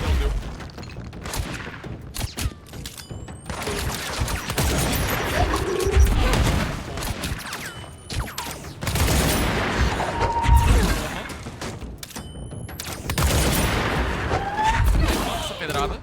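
Repeated gunfire and heavy impacts from the video game Control, with bursts of shots and crashes recurring through the clip among game effects and music, with talk going on underneath.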